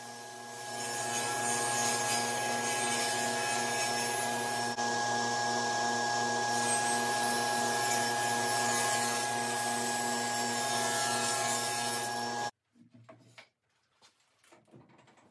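A table saw rips wood door parts for shaker doors at a 2.5-inch fence setting, a steady loud whining cut with a sustained tonal hum for about twelve seconds, then stops abruptly into quieter clatter.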